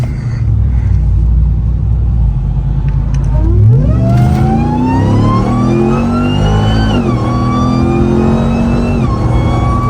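A RAM TRX pickup fitted with a JMB Performance intake launches and accelerates hard, the engine rumbling low before climbing into a loud, rising roar with a brief shift dip, then revving on, close and alone.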